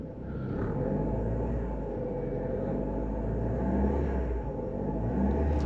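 A 1991 Toyota Starlet XL with a manual gearbox runs with a low, steady engine rumble, heard close and moderately quiet, holding an even idle-like drone without speech.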